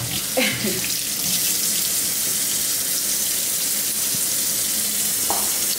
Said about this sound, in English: Always wash your seafood off with vinegar so it won't have like that real fishy taste